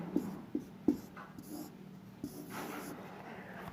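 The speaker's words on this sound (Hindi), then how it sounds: "फिर से लिख लेते हैं, गोमती" Chalk or marker writing a word on a board in a classroom, a few soft taps and scratches up close with low background noise and faint voice sounds.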